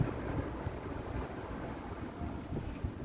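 Strong outdoor wind buffeting a microphone, a low steady rumble with gusty surges throughout, no voices.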